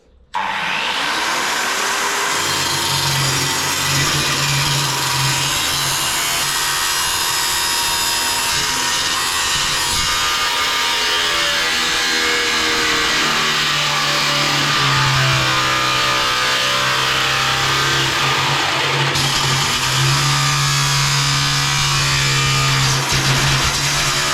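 A 4HP angle grinder cuts for the whole stretch with a loud, steady, high whine that barely changes in pitch. It runs close and alone, with no talk.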